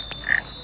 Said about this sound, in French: C'est quoi ça? Cette petite grenouille.